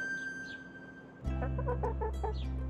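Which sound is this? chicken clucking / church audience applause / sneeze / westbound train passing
chicken clucking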